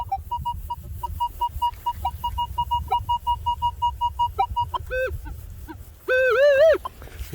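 An Equinox 800 metal detector sounds off on a buried target along a fence line at an old school site, giving a steady stream of short, even beeps that end in a louder, wavering warble. A low hum and handling noise run underneath.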